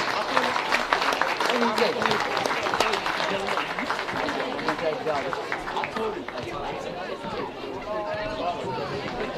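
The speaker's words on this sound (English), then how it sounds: "Can we get a round of applause for Olympia FC Warriors Women's Summer Cup winners?" Applause and cheering from a crowd at a women's Summer Cup football presentation, clapping dense and continuous for several seconds amid chatter and raised voices.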